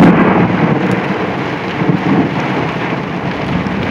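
A summer thunderstorm that rolled in suddenly, with heavy rain pouring down and strong gusting wind, thunder rumbling beneath the steady loud downpour throughout.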